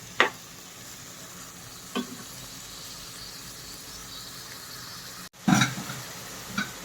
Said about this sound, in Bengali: মাংসটা এখন তেলের মধ্যে কিছুক্ষণ ভাজবো, 5 মিনিট মতো ভাজবো।